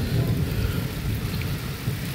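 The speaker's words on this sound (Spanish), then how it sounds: "Es trueno." Thunder rumbling low and continuous through a heavy storm in Guatemala, with rain steady throughout, a deep sustained roll at moderate loudness and no voices.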